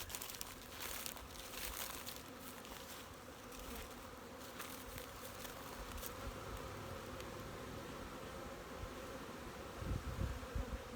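Honey bees swarm around their hives on a calm November day, a dense, steady buzzing of many insects flying close by, with faint crinkling and rustling underneath.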